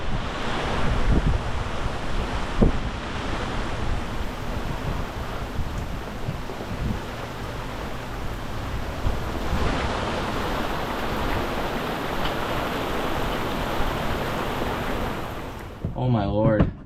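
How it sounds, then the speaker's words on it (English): Squall buffeting a boat at sea, hatches closed: loud, continuous rushing wind and surging waves with gusty roaring swells and microphone rumble, close and unbroken throughout, with no talk. "A squall came through, so I had to close all the hatches"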